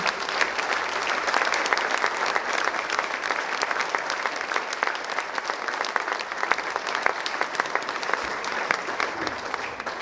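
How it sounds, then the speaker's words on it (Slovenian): Concert audience applauding before a wind orchestra's summer concert, with a loud, sustained wall of many hands clapping in a dense, even patter for about ten seconds and no voices. "En aplavz, prosim."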